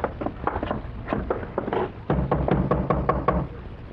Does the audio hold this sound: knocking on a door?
yes